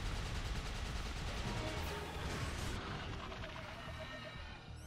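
Dense, continuous gunfire from the Earth Defense Force: Iron Rain video game on PS4, a steady roar of rapid overlapping shots and blasts that stays loud throughout, with no pauses.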